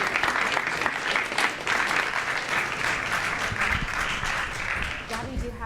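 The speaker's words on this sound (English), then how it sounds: "let's give them a round of applause." A crowd at a youth summit competition applauds with dense, sustained clapping that carries on steadily for several seconds, fairly loud and close.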